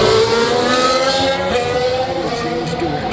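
Formula 1 race cars at the Las Vegas Grand Prix qualifying session deliver a loud, sustained high-pitched engine whine that holds steady and close throughout, with no voices.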